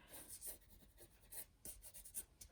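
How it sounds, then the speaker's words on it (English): The side of a colored pencil shades clouds into a Big Sur landscape drawing, making soft, close, faint scratchy strokes in short irregular bursts, with no talking. "Do you see how I'm using the side of my pencil?"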